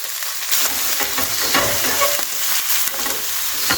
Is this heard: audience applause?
no